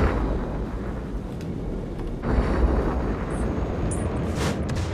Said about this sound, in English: Softening target with missiles.